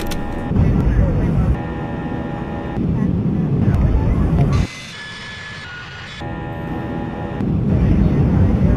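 Airbus A319 jet in the X-Plane flight simulator game, with a steady engine roar and high tonal whine broken by a brief quieter stretch, while someone talks over it.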